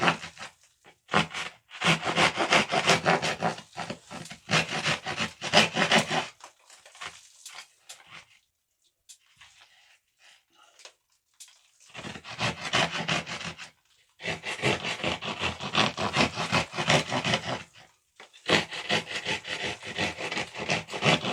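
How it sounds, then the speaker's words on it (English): A drywall saw cuts through wood during a ceiling fan installation, with bursts of rough back-and-forth sawing strokes that stop for a few quiet seconds midway and then resume, close and without talk. "Then I'm going to use a drywall tool."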